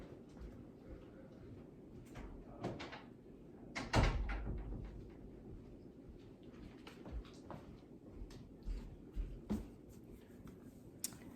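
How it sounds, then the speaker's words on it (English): A door closes with a single firm thud near the middle, surrounded by faint household background noise, scattered small knocks and quiet talk. "Let me close the door"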